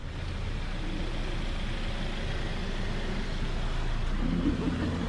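A 2023 Hyundai Elantra SEL rolls around a parking lot, its steady low road and engine rumble heard from close by, continuous and even throughout with no distinct events.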